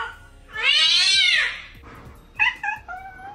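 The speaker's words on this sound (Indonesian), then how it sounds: "kumpulan kucing-kucing bacot" A long, loud drawn-out meow followed by a few shorter, quicker meows, with a faint rhythmic background beat underneath.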